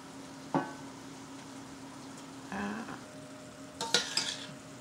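Steak pieces for stuffed peppers fry in a pan with a steady, close sizzle, broken by a few sharp utensil scrapes and clatters as the meat is stirred.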